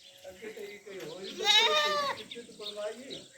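A goat bleats once loudly and close, a wavering nasal cry lasting about half a second, set among low murmuring talk and other faint animal sounds at a livestock gathering.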